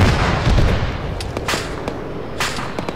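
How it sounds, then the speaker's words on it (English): A big air-strike explosion in a war video game: a loud, low booming blast at the start that rumbles away, followed by scattered sharp gunfire cracks and bangs through the rest, with no talk. "That was a big explosion."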